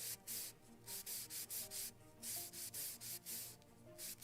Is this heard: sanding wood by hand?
yes